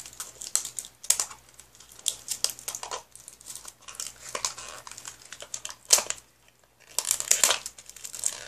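Plastic packaging from a watermelon toy crinkles and crackles up close in irregular bursts, with short quiet gaps between handling.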